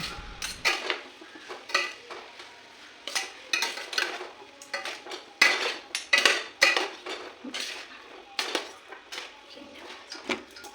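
Vegetable Hakka noodles get tossed and stirred in a pan, with repeated metallic scrapes and clatters of a utensil against the pan in an irregular rhythm and a faint sizzle beneath, close-up, no voices.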